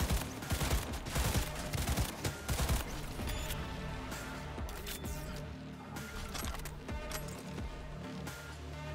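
Gunfire in Cyberpunk 2077: a dense opening burst of rapid shots over the first few seconds, then continued quieter shooting mixed with game music and effects.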